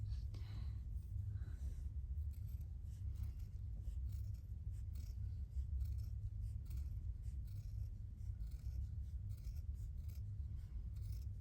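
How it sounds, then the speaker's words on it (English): Scissors snip and cut out small fabric Christmas wreath ornament pieces, including the centers, during a stitchery session, giving a soft, continuous rasping and crinkling close up over a low background rumble, without talking. "just put a snip in the center and then cut the center out"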